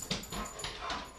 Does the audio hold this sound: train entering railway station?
no